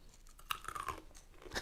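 Crunchy spice-coated peas and toasted corn being chewed up close, a series of sharp crackling bites and crunches with no talk over them.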